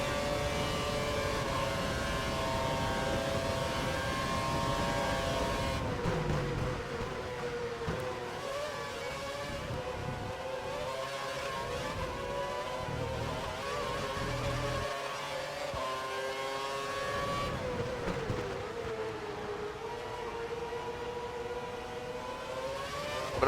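Formula 1 racing cars on the Spa circuit in the video game F1 2012, a sustained high engine whine rising and falling through gear changes, with other cars droning close by.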